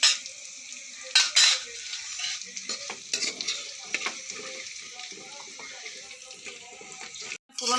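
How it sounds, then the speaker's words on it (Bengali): Jackfruit fries in a pan for a Bengali curry, a close sizzle broken by bursts of stirring and scraping with a few sharp clanks, then a brief drop to near silence at the end. "এই দেখুন আমার কাঁঠাল ভাজা হয়ে গেল"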